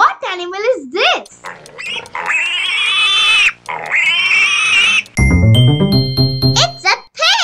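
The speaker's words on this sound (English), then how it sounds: "It's a pig." Loud, close pig oinks and squeals in a short burst at the start, followed by a voice and bright chiming jingle tones.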